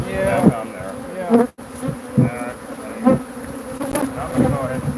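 A loud, steady swarm of aggressive bees drones around an open hive right at the microphone, with brief muffled voices under the buzzing and a momentary dropout midway.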